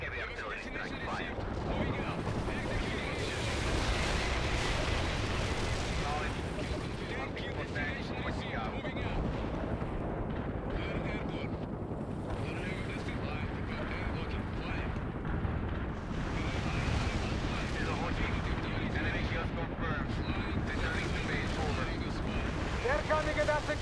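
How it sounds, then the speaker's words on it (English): A heavy artillery strike pounds away in the video game World in Conflict, a dense, continuous roar of overlapping explosions and rumble lasting many seconds, with voices talking over the barrage. "Heavy artillery strike fire."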